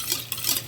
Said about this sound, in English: And I'm going to stir that because you want your spices and your vanilla really